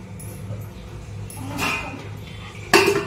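A metal weight is set down on an idli steamer lid, a soft scrape then a sharp metallic clank near the end over a low kitchen hum.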